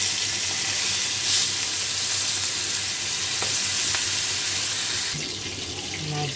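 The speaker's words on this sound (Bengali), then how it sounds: "তেলটা গরম হয়ে গেছে। মাছগুলো দিয়ে দেবো।" Hilsa fish frying in hot oil in a pan, a steady broadband sizzle running continuously and fairly loud, with a brief clink or shift in the sound near the end.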